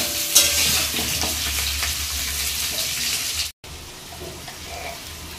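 Spice paste of ginger, garlic, onion, tomato, garam masala and sour yogurt sizzling and being stirred in a pan for Bengali fish kalia, a steady close frying hiss with scraping stirs, briefly cut off then resuming.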